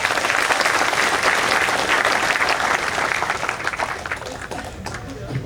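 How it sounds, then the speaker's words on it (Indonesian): An audience at a Maiyah gathering with Mbah Nun breaks into loud, sustained applause, many hands clapping densely before gradually thinning and fading out. "Tepuk tangan dong sekalian."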